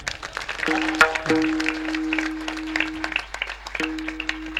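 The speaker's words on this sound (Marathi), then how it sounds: "टाळी वाजवा" An audience claps at a comedy kirtan, a burst of scattered applause heard alongside a sustained tonal drone and a brief voice, fairly close and moderately loud.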